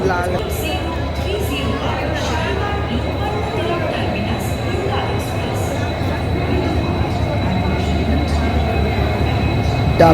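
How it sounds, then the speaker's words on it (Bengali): A passenger train on the Howrah–Puri route rumbles steadily into a station, a continuous heavy rolling sound with faint wheel squeal, while people chatter nearby. "সো গাইস, আমাদের ট্রেন এখন ঢুকছে।"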